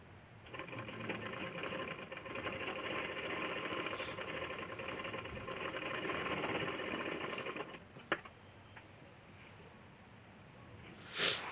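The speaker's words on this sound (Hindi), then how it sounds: "अब दूसरे पार्ट को भी उसी तरीके से हमें सिलाई अटैच कर देना है कटोरी को।" Electric sewing machine stitching a katori cup onto a blouse piece, running as a steady fast whir for about eight seconds, then stopping with a click and quiet handling.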